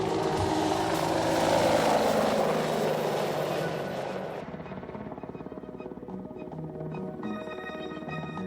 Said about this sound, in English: Today, Russia's Black Shark is one of the more impressive helicopters to watch.